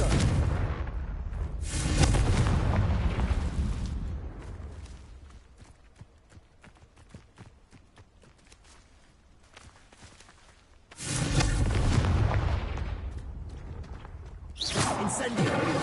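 Explosive Confringo fire-spell blasts in Hogwarts Legacy: loud, roaring bursts fill the opening seconds and return near the end, with sparse crackling impacts in the quieter stretch between.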